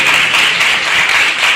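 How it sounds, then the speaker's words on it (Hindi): Brief burst of audience applause in a church congregation, many hands clapping densely and evenly, loud and close for the whole short moment. "आइए इनके लिए जोरदार तालियां बजाइए"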